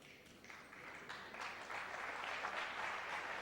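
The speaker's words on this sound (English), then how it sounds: "Knowledgeable crowd, yeah, appreciating Davis's attempt" A knowledgeable crowd applauds steadily at the 2002 World Pool League final between Efren Reyes and Steve Davis, a dense, even patter of clapping that swells slightly and holds at moderate loudness.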